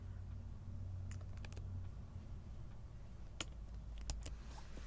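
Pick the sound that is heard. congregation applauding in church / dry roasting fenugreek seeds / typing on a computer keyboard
typing on a computer keyboard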